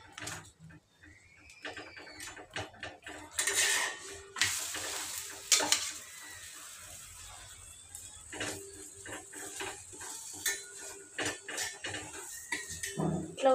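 A chapati made from Aashirvaad flour pressed down with oil on a hot pan, soft scraping and pressing with light sizzling and occasional utensil clinks, near and moderate in volume, in a home kitchen.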